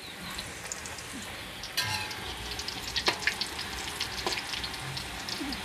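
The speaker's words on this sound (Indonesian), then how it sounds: "Terus kita goreng lagi sampai selesai." Wonton wrappers frying in oil over a low flame in a single wok: continuous close sizzling and crackling, with occasional clinks and stirring scrapes.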